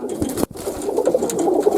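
Young pigeons in a kit coo softly and repeatedly, close by, with a short break partway through and low murmuring calls continuing alone.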